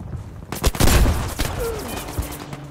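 Gunfire in the Battlefield 5 video game erupts in a quick burst of loud, close shots, then gives way to softer scattered pops and a low rumble over a couple of seconds.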